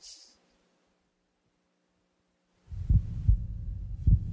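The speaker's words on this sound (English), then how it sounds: "This is the actual sound of my heartbeat." A human heartbeat, starting after a short silence with low, thudding pulses in a steady rhythm, close and fairly loud over a faint hum.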